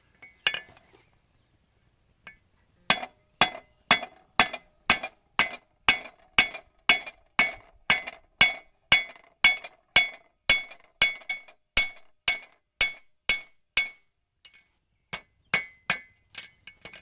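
A hammer strikes a steel horseshoe in a steady run of sharp, ringing metallic blows, roughly two per second, close and loud, as a toe clip is drawn out on the shoe.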